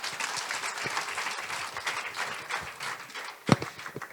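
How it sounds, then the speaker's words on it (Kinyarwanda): A church congregation at a Pentecostal revival service claps, giving a loose, busy patter of many hands with one sharper, louder clap near the end, and no talk over it. "Dukomere Imana amashyi cyane"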